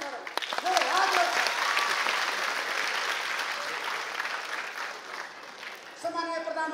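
Audience applause for the Prime Minister at a public function, a loud sustained wash of clapping that thins out toward the end as a voice begins speaking.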